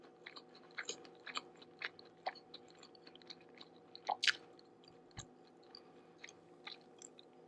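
Raising Cane's chicken tenders and fries chewed close to the mic, with soft repeated crunchy bites and moist chewing at an irregular pace, quiet and with no talking.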